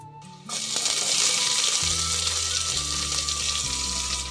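Chopped shallots dropped into hot oil for Kerala pork roast, a sudden loud steady sizzle that starts after a short quiet moment and continues evenly, with low bubbling underneath.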